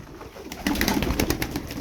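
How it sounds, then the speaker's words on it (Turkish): A group of game pigeons coos and rustles close up, a loud burst of throaty murmuring calls with fluttering and shuffling, alone with no voices. "Yüksek voltaj kuşlar bunlar."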